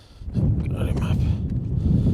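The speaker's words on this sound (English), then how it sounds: "Wind just picked up as soon as I hit the trolling motor, the anchor." Wind gusting across a lake during a stocked-trout fishing trip in Alberta, a steady low roar of wind buffeting the microphone that builds quickly and holds, with no talking.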